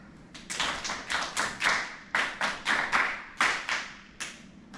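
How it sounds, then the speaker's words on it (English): A group in a music teacher training session claps a rhythm exercise together, about a dozen crisp, fairly even claps with short gaps, close and clear, with no talking. "Now we're just gonna clap this one."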